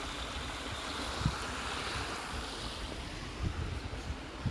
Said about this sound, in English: There's the falls right over there.